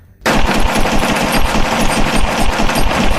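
Rapid pistol gunshots fire in a fast, continuous stream after a brief quiet start, loud and close, almost like automatic fire.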